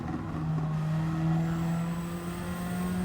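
A race car engine in Gran Turismo 7 drones at high, steady revs, holding a sustained loud tone with slight pitch shifts near the rev limit.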